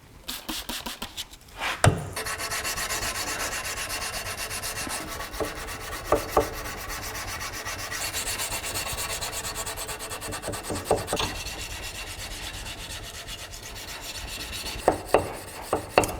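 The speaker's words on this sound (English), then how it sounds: "Yay, hand sanding!" Steady rasping rub of hand sanding on a 1055 mild steel bar knife blade, continuous back-and-forth scratching close up, with a few sharp knocks scattered throughout.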